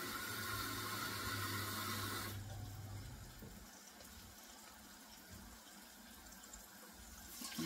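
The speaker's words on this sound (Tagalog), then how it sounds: "Tapos lalagyan ko siya ng water." Water pours from a tap into a pan already holding garlic and onion, a steady loud gushing rush for the first two seconds, then a quieter running trickle that continues to the end.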